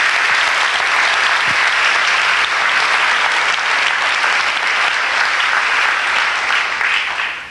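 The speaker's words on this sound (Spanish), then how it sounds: "Un aplauso al Señor" A church congregation applauds loudly and continuously, a dense, sustained wash of many hands clapping that holds steady for several seconds before easing slightly at the end.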